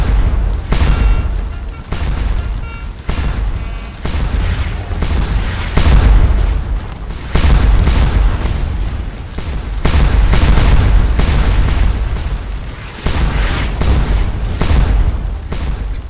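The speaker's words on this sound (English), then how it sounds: "they still take heavy shell fire as they move" Heavy artillery shell fire in a Waterloo-era battle within the video game Scourge of War: Waterloo, a continuous roar of loud, overlapping booming blasts and rumbling bursts that keeps up steadily without a pause.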